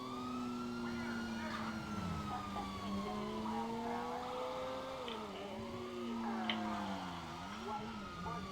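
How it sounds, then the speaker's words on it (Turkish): Police sirens wail and sweep up and down in GTA 5, layered over a running car engine at moderate distance, with a voice talking over them. "Yine burada polis var."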